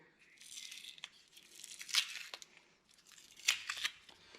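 Adhesive tape peeled off a brake caliper bracket in several quick ripping strips, close up, with two sharper tearing bursts and small crinkles between them.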